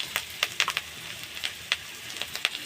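Turmeric, chili and salt spices sizzle in a pan while being stir-fried, with a faint hiss and irregular sharp crackles and scraping stirs, close and fairly quiet.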